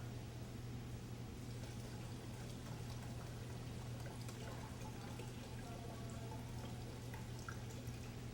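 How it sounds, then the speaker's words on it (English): Liquid pours into a gallon jug of water in a steady, quiet stream with faint gurgling and dripping, continuous and fairly distant under a low background hum. "take that 24 ounces he put in here, add it to the gallon of water"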